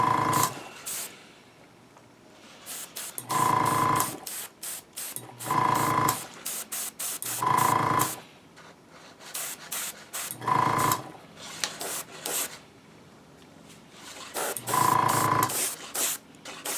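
An airbrush sprays brown grime weathering onto a five-foot Millennium Falcon replica model in short hissing bursts. About seven bursts are separated by quiet pauses, close and fairly loud.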